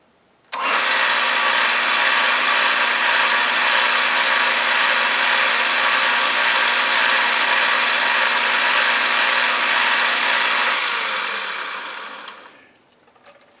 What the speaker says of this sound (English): I'm just putting some 320 grit on here just to begin to even it out.